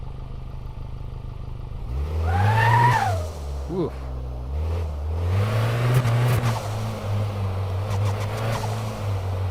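A car engine in the video game Car Mechanic Simulator 2026 revs up and settles into an uneven idle, rising in pitch then dropping, with a brief exclamation from a person partway through.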